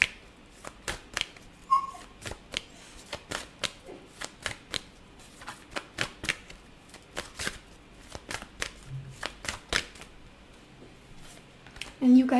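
Tarot cards being shuffled in soft, irregular riffles and flicks for several seconds, close by, with light rustling between bursts and brief speech at the end.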